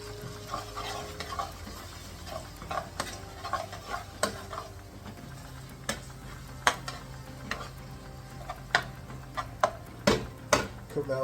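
Tomato paste frying in a pan for lamb rogan josh gives a quiet, steady sizzle, broken by repeated clicks and scrapes as a spoon stirs through it up close.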